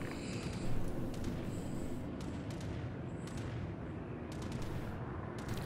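Anti-aircraft flak guns fire in a World of Warships naval battle: a dense, continuous rumble of gunfire and booms with sharper cracks scattered throughout, loud and steady for the whole stretch.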